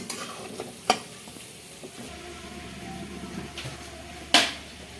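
Shrimp frying lightly in oil for a Bengali potol chingri dish, a soft steady sizzle with occasional stirring clatters and a sharp scrape near the end, heard close with no talking.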